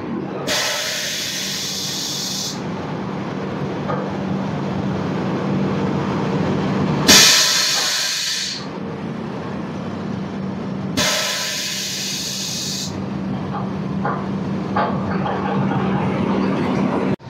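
The Kolkata–Agartala Garib Rath Express rolls on at night, heard from inside a 3AC coach as a constant low rumble with a steady drone. Three long bursts of airy hiss rise and fall over the running noise.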